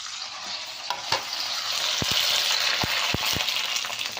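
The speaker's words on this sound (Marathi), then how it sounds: "आता आपण दुसरा बघणार आहे तळून दाखवायला" A sabudana and potato papad deep-fries in oil over a lowered flame, making a steady, close bubbling hiss punctuated by several sharp clicks and taps.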